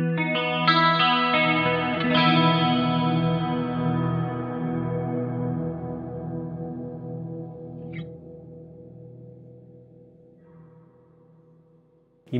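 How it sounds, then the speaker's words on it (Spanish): A guitar runs through an Eventide H90, with a digital delay feeding a crystal shimmer effect. A sustained, glistening chord washes out slowly with echoing repeats and fades toward silence, with no talking. "Primero tenés el digital delay y después el crystal."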